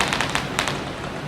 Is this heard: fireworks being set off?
yes